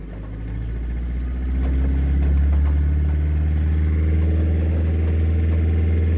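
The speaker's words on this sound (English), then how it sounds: "So rev the engine again." A car engine with an overcharging electrical fault idles with a low rumble, then climbs into a stronger rev and holds at a raised, steady drone, close by.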